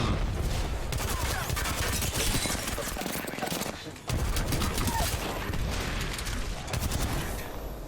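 Frag grenade blast in the video game Apex Legends, loud gunfire and explosive bursts filling the whole stretch with a brief dip midway, dense and continuous rather than a single isolated boom.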